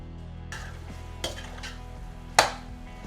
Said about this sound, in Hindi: करछी के साथ ही मैश कर लेंगे, क्योंकि हल्का हल्का मैश्ड कद्दू अच्छा लगता है पूड़ियों के साथ